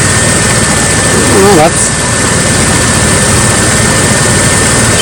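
A 1996 Chevy Tahoe engine runs steadily at idle, a constant broadband rumble that holds at the same loudness throughout, with a brief spoken remark partway through.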